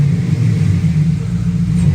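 A car engine idles and revs through a freshly welded exhaust, a steady low rumble holding close and even throughout with no voices.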